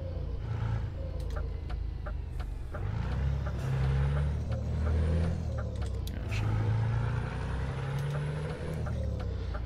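A truck engine in Euro Truck Simulator 2 hauling steel coils on a trailer from Felixstowe to Birmingham, a steady low rumble throughout with occasional hisses and clicks, no talking.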